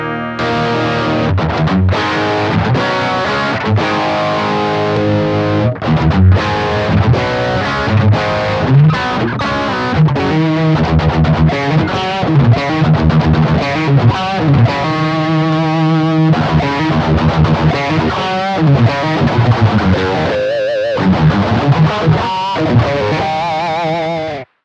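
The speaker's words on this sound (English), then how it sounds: "the speaker simulation circuit sounds really good when you engage the distortion and overdrives" An electric guitar is played through an AXE MX300 multi-effects unit with distortion and overdrive engaged, giving a loud, saturated tone with sustained chords and quick runs, continuous for about twenty-five seconds with no talking.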